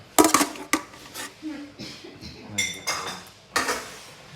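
Metal utensils clink and scrape against a bowl while a Thai salad of salmon, sausage and shrimp is tossed, giving a run of sharp, close rattles and knocks with a voice speaking in between.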